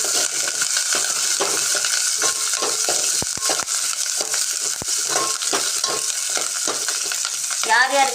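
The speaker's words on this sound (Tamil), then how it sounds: "நல்லா வதக்குங்க" Shallots, mustard seeds, urad dal and curry leaves sauté in oil in a pan for broad bean sambar, a loud, close sizzle with rhythmic spatula scrapes and stirring strokes throughout.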